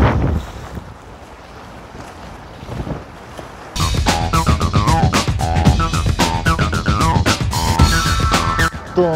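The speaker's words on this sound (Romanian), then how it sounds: "Nu știu dacă auziți, dar se aud valurile." Waves washing ashore beside a cycling route near Bucharest. Quiet wind-buffeted ambience gives way midway to loud, close surging water mixed with heavy wind noise on the microphone.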